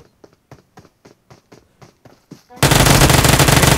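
Gunfire from the BGMI mobile battle royale game opens with a rapid series of evenly spaced single shots, then breaks into a loud, dense continuous burst of automatic fire.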